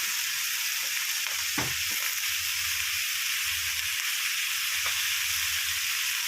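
Spring onion flowers and squid are stir-fried in a hot pan with oyster sauce, fish sauce and sugar, giving a loud, continuous hiss of sizzling oil with a few soft stirring knocks.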